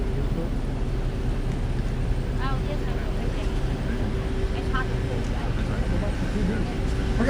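A tour boat's engine exhaust discharges seawater coolant on a harbor cruise off Newport, Rhode Island, giving a steady rumbling, splashing wash with wind buffeting, continuous and fairly loud throughout.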